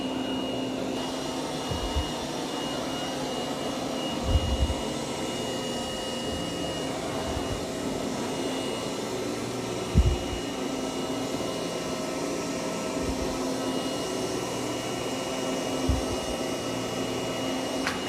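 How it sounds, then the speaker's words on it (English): A Eureka J15 Pro Ultra robot vacuum runs with a steady, loud whirring drone throughout, broken by a few soft thumps as it moves across the floor. "you could have it vacuum first and then mop"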